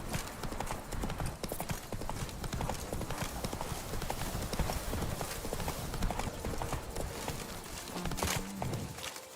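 Horse hooves clip-clop steadily on hard ground in The Witcher 3 video game, with a brisk, even rhythm that stays close and continuous, under dense ambient game sound.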